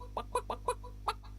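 Cartoonish chicken clucks from a farm video game, where chickens are being scooped into a small wheelbarrow: five short, bright cluck bursts in an uneven rhythm over a steady low hum, close and clear.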